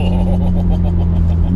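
Modified 450 BHP Audi 8P S3 engine and exhaust, a loud, deep, continuous rumbling drone with a throbbing low burble, close and steady.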